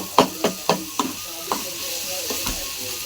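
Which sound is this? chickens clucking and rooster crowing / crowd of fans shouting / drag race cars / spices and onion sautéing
spices and onion sautéing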